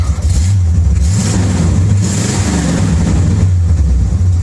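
A deep, rumbling V8 engine of a tired 1973 Corvette Stingray idles steadily and loudly close by, a low idle driving the AC belt, its low exhaust burble continuous with no other sounds.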